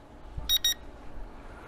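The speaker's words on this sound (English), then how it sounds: "So we still have the low voltage, you know, beeping, but the drone is dead." A Snaptain A10 mini foldable drone gives two short high beeps in quick succession as a low-voltage warning, close and clear over faint background noise.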